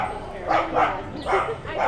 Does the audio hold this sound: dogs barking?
yes